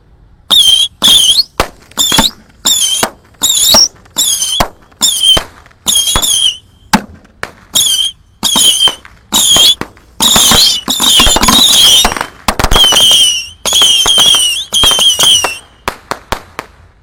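A rapid string of sharp firecracker bangs, many in quick succession with brief gaps, sounding hollow and boomy from being set off inside a bucket, plus squealing whistles.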